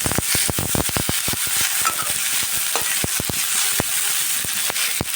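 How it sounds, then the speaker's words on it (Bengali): Spices and a tomato, onion, ginger and garlic paste for eggplant masala frying in a pan, with steady close sizzling broken by repeated sharp scraping strokes of a spoon stirring, no voices. "ভাজা ভাজা হয়ে যাচ্ছে"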